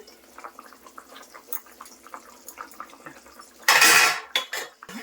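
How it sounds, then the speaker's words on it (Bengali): Fish curry with green chillies and coriander leaves is stirred in a pot, giving soft scattered ladle clinks and then a loud scraping rush of stirring near the end. "এখন নেড়ে চেড়ে এখন নামিয়ে দিব"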